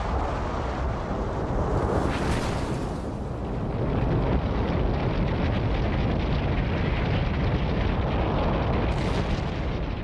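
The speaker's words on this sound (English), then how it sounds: "Explosions smash the magma into thousands of lava bombs, throwing them hundreds of yards into the air." A volcanic eruption roars with continuous heavy rumbling blasts as explosions hurl lava bombs skyward, a dense, loud, unbroken wash of booming noise with wind buffeting.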